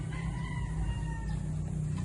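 Chickens in coops, with clucking and crowing-like calls against a loud, steady low rumble of background noise.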